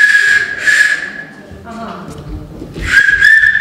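A shrill, steady clay whistle blows in two long bursts with a pause between them, with rustling and a faint voice in the background, at a children's clay workshop.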